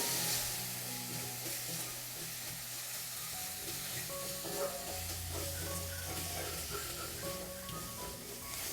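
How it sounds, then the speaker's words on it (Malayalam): Masala for a capsicum curry sautés over a medium flame, giving a steady close sizzle with stirring scrapes and faint talk in the background. "ഒരു 30 സെക്കൻഡ് മാത്രം മീഡിയം ഫ്ലെയിമിൽ വെച്ചിട്ട് നല്ലതുപോലെ ഒന്ന് വഴറ്റിയെടുത്താൽ മതിയാവും"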